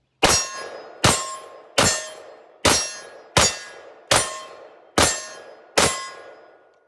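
Unsuppressed .223 braced pistol shots ringing off an angled steel silhouette target, eight sharp metallic clangs at a steady pace, each decaying quickly, with no talk.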